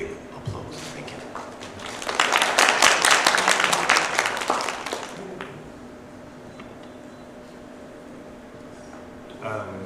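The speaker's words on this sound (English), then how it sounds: "Please welcome him with a big applause." Applause from a conference audience at a sustainability forum welcoming a speaker, swelling in after a quiet start, holding loud for a few seconds, then fading back to a hushed room.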